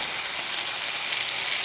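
Olive oil and about a tablespoon of butter sizzle in a pan, a steady, even hiss lasting the whole moment with no talking.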